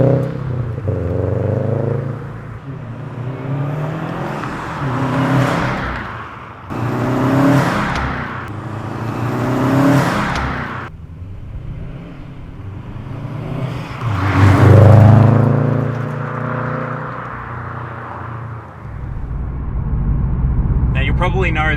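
A Subaru WRX STI with a Cobb Redline aftermarket intake revs and roars, recorded from outside the car, with rising and falling surges and a strong low rumble, fairly close.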